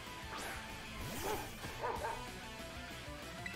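Short yipping dog-like cries from the Pokemon Dachshbun in Pokemon Scarlet and Violet, a few quick barks and whimpers over game music, moderately loud.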